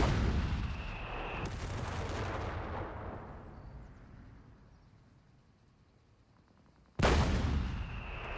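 Tank main gun firing in the video game Company of Heroes 3, two loud booming shots several seconds apart, each with a long rumbling decay, no talking.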